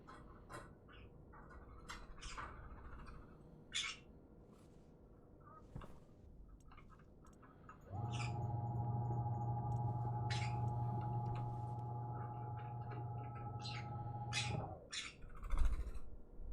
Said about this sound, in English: Hear the chirping in the background?